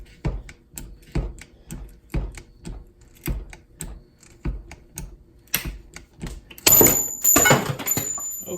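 Sawing through a Master Lock boron carbide shackle on the second cut: close, regular strokes about twice a second, then a louder, harsher grinding burst near the end.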